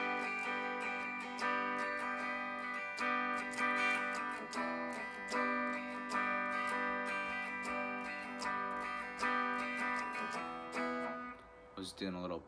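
An acoustic guitar plays a short strummed and picked passage of a song, ringing chords with steady rhythmic strums, close and without voices.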